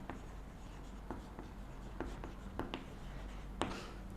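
A pen writes answers onto paper: steady faint scratching strokes broken by several light taps as words are finished, close and quiet with no talking.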